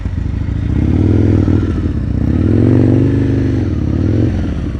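A motorcycle rolls through a slow-speed practice course, its engine a loud, close, steady low rumble that rises and falls slightly with throttle, with no voices.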